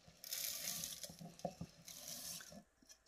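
Water pours into a pot of washed rice made of white glutinous rice, brown rice and a little black rice, a steady gurgling stream at close range, with a few soft clinks and splashes as it tapers off.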